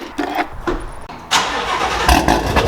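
A 2018 GT350 cranks and fires up with its exhaust in quiet mode: a short starter whir, then a loud catch that settles into a steady, rumbling idle close by.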